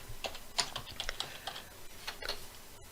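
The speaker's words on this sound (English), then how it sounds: "So I'm just going to type this in real quick." Soft, close clatter of fingers on a computer keyboard, an uneven run of light key taps and a few firmer strokes, quiet and alone.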